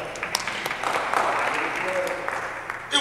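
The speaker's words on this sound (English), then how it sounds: "We give God a hand clap." An audience gives a round of applause, a moderate, continuous spatter of claps with a few sharper individual hits, a voice speaking under it and a louder flurry right at the close.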